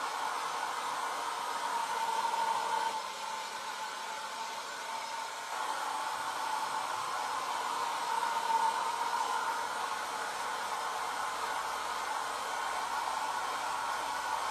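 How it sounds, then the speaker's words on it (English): A hair dryer blows steadily for a long stretch, a constant airy whirring roar with slight dips in level as it is moved, close by and with no talking over it. "I'm going to use my hair dryer real quick on it though."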